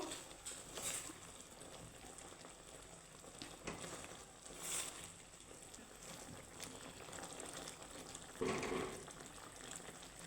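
Sugar syrup boils gently in a pan, a soft, continuous bubbling simmer with faint crackles and a couple of brief clinks, quiet and close with no talking.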